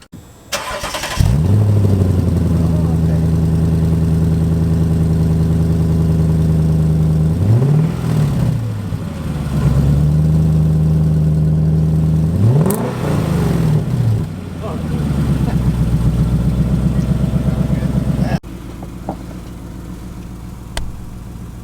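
A 2010 Lexus LS460 engine running cold just after a Megan muffler install, loud and close with several revs rising and falling over a steady idle, then dropping to a quieter idle, with people talking.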